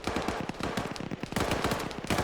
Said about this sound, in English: the other audio is going to drown out the audio of his gunshots